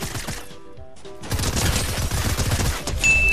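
Rapid bursts of gunfire in Fortnite, a fast crackling volley of shots following a brief lull with game interface tones, loud and close.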